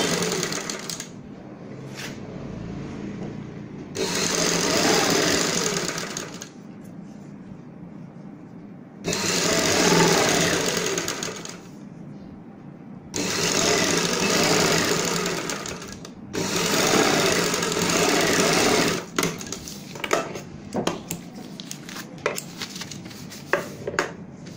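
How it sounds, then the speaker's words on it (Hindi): A sewing machine runs straight stitching to attach a mohri hem to palazzo pants, in several fast whirring runs of a few seconds each, separated by quiet pauses and small handling clicks, close up. "पोंछे को यहाँ पे अटैच करेंगे बिल्कुल सीधा सिलाई से इस प्रकार से"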